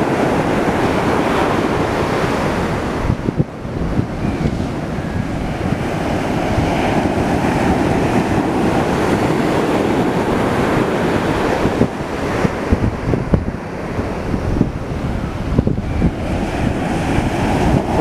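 Ocean surf at Pozhiyoor beach, a continuous roar of waves breaking and washing ashore, loud and close, with wind buffeting the microphone throughout and no voices.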